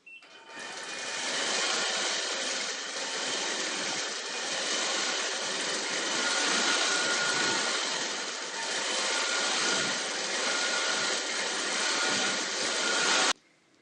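A quilting machine stitching swirls and loops on a fabric table runner hums with a steady, dense whir that runs close and continuous before cutting off abruptly at the end.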